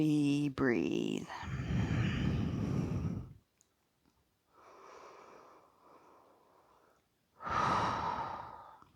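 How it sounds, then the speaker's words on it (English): Slow, deep breaths during a hatha vinyasa yoga flow, a long audible exhale followed by a pause, a softer breath, another pause and a final strong exhale, close and alone. "And we breathe."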